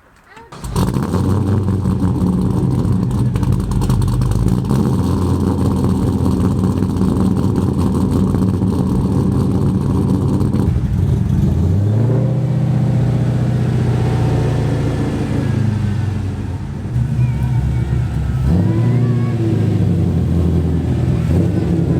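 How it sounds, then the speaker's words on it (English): A loud V8 engine in a V8-swapped Honda runs close by, a deep steady rumble that shifts in pitch and revs up midway before settling again. "Car hasn't been on in weeks, and dude, she runs perfect."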